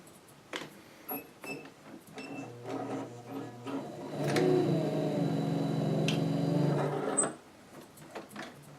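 Vintage Kenmore Imperial Rotary sewing machine, dried out, a few scattered clicks and ticks before it runs with a close buzzing whir for about three seconds, then stops abruptly into more light clicking.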